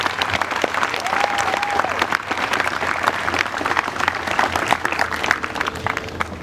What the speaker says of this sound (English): A nice big round of applause for Commander Flores.